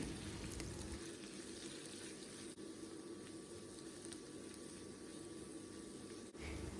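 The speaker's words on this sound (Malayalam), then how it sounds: "ഇപ്പോൾ സവാളയൊക്കെ നന്നായിട്ട് വഴണ്ടി വന്നിട്ടുണ്ട്" Onions sautéing in a pan for Kuttanadan-style chicken mappas, a faint, steady frying hiss that runs unbroken with no talk.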